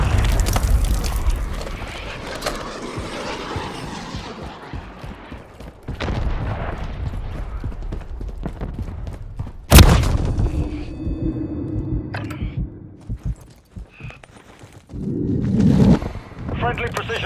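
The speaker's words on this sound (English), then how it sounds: "Hostiles launched a cruise missile." Cruise missile strike in Call of Duty, a heavy booming explosion erupting mid-clip among scattered gunfire and rumbling blasts, with game voices talking around it.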